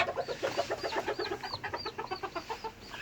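A small Serama hen clucks in a quick, steady series of short calls, close by and fairly quiet.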